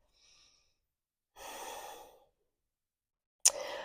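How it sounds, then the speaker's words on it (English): Breathing during a yoga class: a faint short breath, then a long, audible exhale lasting under a second, followed after a pause by a sharp intake of breath. "One more big breath."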